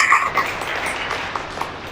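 An audience in a Hindi church service claps together, a soft scattered patter that fades gradually from fuller at the start to thinner at the end.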